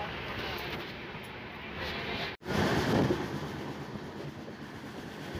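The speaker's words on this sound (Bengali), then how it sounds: "ট্রেনটি নিজের ফুল পারমিসেবল স্পিড ধরে রেখেছে" The Howrah–Chennai Mail rushes at full speed, its wagons rumbling and rattling steadily with wind buffeting the microphone, broken by one sudden brief cutout midway.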